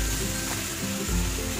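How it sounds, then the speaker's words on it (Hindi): A tadka of tomatoes and spices sizzles steadily in hot ghee, a dense crackling hiss that carries on throughout with no voices. "ये तड़का घी में पक रहा है।"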